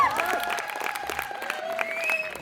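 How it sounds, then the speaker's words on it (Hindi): A crowd at a Diwali night stand-up comedy show breaks into brief applause, a quick patter of clapping that is fairly quiet, with a voice sounding over it. "बार जोरदार तालियां मेरे लिए।"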